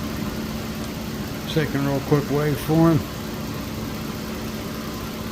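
A car engine idles steadily, a low continuous hum running the whole time while someone speaks briefly over it partway through.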